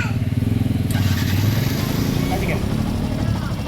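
Yamaha FZ motorcycle engine cranking and catching, then idling with a rapid, steady thump, close by as someone talks over it.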